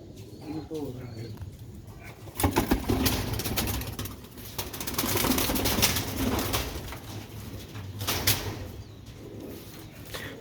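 Rooftop pigeons in Sialkot cooing softly, with low bird calls under intermittent talking and some background noise, including louder bursts partway through.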